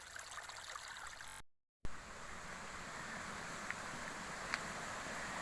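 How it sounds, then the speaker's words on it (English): Water runs over a small ford and down a little cascade on a worn forest road, a constant soft rushing trickle that cuts out briefly before resuming. "There is a lot of water moving over it."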